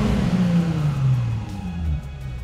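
A car engine running on a 69% ethanol flex-fuel blend revs as the gas pedal is pressed, a close, steady mid-pitched roar that swells and eases over a couple of seconds with no talking.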